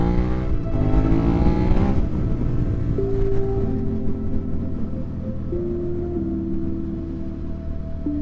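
A motorcycle racer flies past on a city road, with a loud engine whine that rises and falls in pitch over constant riding and wind roar, heard from another motorcycle.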